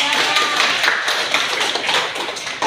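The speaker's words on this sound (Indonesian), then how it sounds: "Tepuk tangan." A class of students claps hands together in a classroom, a loud, dense, continuous patter of many close hands throughout.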